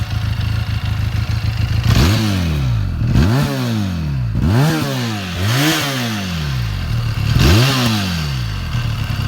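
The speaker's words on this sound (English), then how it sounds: "Try and get some of the sound of the exhaust for you." A Benelli Leoncino 500 scrambler motorcycle engine with stock exhaust revs up and down in repeated bursts, its free-revving exhaust note rising and falling several times, loud and close.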